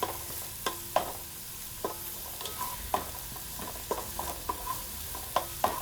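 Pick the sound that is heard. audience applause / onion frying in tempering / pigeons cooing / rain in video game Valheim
onion frying in tempering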